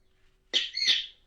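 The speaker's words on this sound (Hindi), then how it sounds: "आपसे ज्यादा आपके तोते की आवाज आ रही है" A single harsh, raspy parrot squawk in two quick bursts, loud and close, with quiet before and after.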